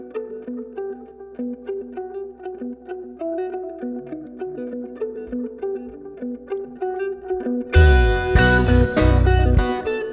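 Rock song mix with electric guitars after EQ, layered distorted guitar chords with a steady pulse, swelling into a fuller, louder band section near the end, no voices.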